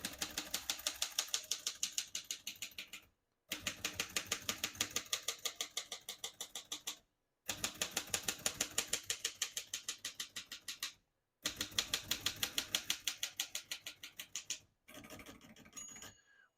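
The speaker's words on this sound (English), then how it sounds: "Once you hear the bell, you're near the end of the margin" A 1947 Royal Quiet De Luxe portable typewriter clatters out four fast bursts of crisp keystrokes separated by short silences, and a bright margin bell dings near the end.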